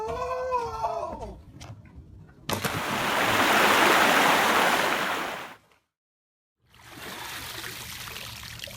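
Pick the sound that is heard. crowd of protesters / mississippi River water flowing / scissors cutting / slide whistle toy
mississippi River water flowing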